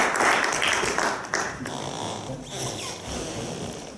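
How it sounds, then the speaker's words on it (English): Audience applause greets a student speaker at a speech meeting, a dense wash of clapping from a room full of people that holds steady for about four seconds before easing slightly. "So please give a round of applause for Dacian Cimpean."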